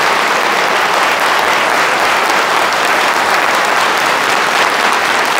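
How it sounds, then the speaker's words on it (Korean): An audience at a church-hosted lecture event in Incheon applauds steadily to welcome a speaker, a dense, continuous wash of clapping held at an even loudness throughout with no voices on top. "고 박사님 나오실 때 큰 박수로 환영해 주시면 감사하겠습니다."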